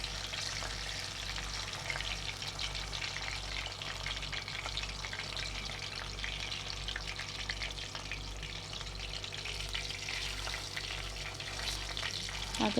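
Pizza fries deep-frying in oil, a steady soft bubbling sizzle with fine crackle throughout, close and fairly quiet, with a low rhythmic hum underneath and no speech.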